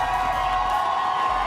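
Steady roar of an arena crowd cheering and whooping for Vitality at the VCT EMEA Stage 1 esports grand final, a continuous wash of voices without a break.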